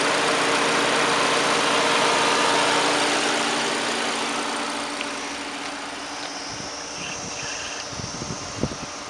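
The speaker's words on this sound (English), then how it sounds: "115 horsepower engine of this 2013 Jetta" A 2013 Volkswagen Jetta with a 115-horsepower engine runs at a steady idle, giving a constant broadband hum that eases slightly partway through, with a few faint knocks near the end.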